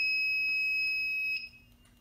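A fire alarm panel sounds a zone 3 alarm as a steady, loud two-tone electronic beep that holds for over a second, then cuts out, leaving quieter hum behind.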